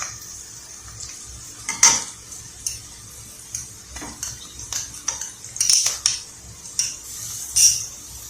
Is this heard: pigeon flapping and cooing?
no